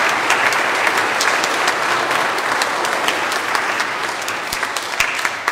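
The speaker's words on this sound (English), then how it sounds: "let's give them a round of applause for this wonderful day." A church congregation at a Confirmation Mass clapping steadily, a dense, even applause that carries on without pause from start to finish.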